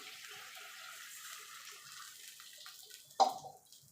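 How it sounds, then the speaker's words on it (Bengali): Water poured from a mixer jar into a simmering Bengali rui fish curry with ridge gourd and potato gives a soft, quiet trickle, followed near the end by a brief, clearer splash. "মিক্সির জারটা দিয়ে জল দিয়ে দেবো"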